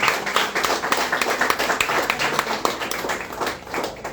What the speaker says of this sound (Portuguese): E as palmas exaltam o Senhor